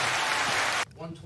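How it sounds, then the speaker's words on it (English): An audience applauds in a loud, dense burst that stops abruptly after under a second, followed by a voice speaking. "Go ahead and give him a round of applause."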